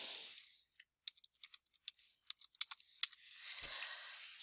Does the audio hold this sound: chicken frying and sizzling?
no